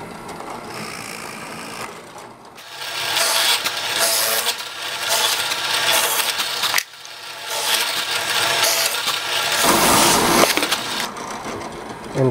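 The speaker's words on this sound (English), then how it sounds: "Now it's about a lot of drilling." Holes are drilled one after another into a wooden block, each a loud grinding whir as the bit bores through, in several long bursts separated by brief pauses, close up with no talking.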